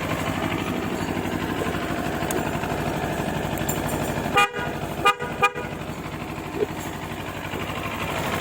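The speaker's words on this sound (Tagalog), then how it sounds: "Testing pala natin yung busina." A continuous CFMoto 700MT motorcycle engine rumble is broken by three short, sharp honks from a Bosch snail horn in quick succession around the middle, then the motor keeps idling.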